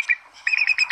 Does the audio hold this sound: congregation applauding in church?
no